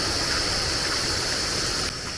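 A swollen river rushes past after Typhoon Opong near a Mangyan tribal community, a close, loud, steady wash of water with no voices.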